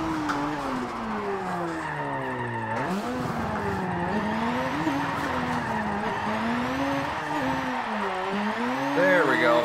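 Tires squeal continuously as a Mazda RX3 drifts in tandem with an antique Ford coupe in Forza Motorsport 7, with a rising and falling engine note and a voice talking underneath.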